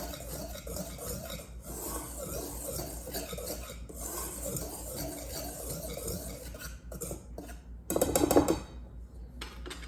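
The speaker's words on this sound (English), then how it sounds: "we are going to whisk that together very well" A whisk or spoon works vegan bun batter in a bowl, giving a steady close scraping and stirring texture for several seconds before a brief louder clatter near the end.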